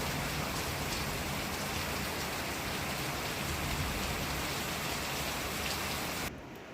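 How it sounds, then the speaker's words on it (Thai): Steady rain pours down continuously as a dense, even hiss, heard from a bedroom, close and fairly loud, easing slightly in the last moment. "เดี๋ยวนอนพักอยู่ห้องนอนฟังเสียงฝนเนาะ"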